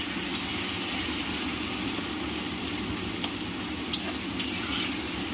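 Chicken masala with ginger, garlic and tomato sautéing in a pan, a steady broad sizzle with a few faint scraping knocks near the end, no voices.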